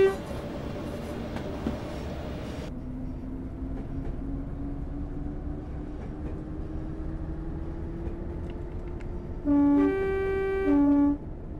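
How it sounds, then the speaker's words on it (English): Old train running the Bishop Auckland to Wearhead heritage line in a train simulator game: a steady rolling engine drone with a rising tone, then two loud horn blasts close together near the end, with no talk. "It's a pretty old train,"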